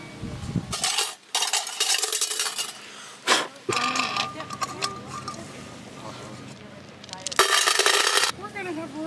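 A metal camping pan or billy pot is handled beside a firebox stove, making loud clattering and clinking bursts. Talk and rustling fill the gaps between the bursts.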